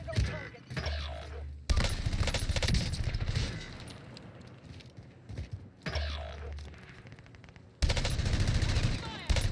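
Bursts of rapid automatic gunfire ring out in a video game shootout, with shots fired through a railing. Dense volleys arrive in several long stretches separated by brief lulls, loud and close.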